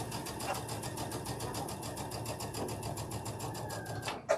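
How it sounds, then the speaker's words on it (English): A sewing machine stitching across a fabric seam on a quilted table runner, a fast, even mechanical chatter running steadily at close range before stopping with a brief clunk at the end. "And then I'm going to sew over it."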